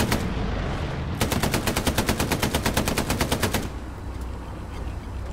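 Machine gun fire in the World War II shooter Hell Let Loose, a loud close burst of about twenty evenly spaced rapid shots lasting over two seconds, followed by a lower rumbling ambience.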